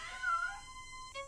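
A feral barn cat on an Oklahoma dairy farm meows, a single drawn-out, rising and falling call followed by a short second mew, close and clear.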